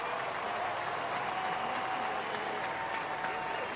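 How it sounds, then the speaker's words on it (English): A stadium crowd at a 2012 Texas Tech versus New Mexico college football game applauds an injured player, a continuous broad wash of clapping and crowd noise that holds even and sustained throughout. "Nice round of applause as he's taken to the locker room."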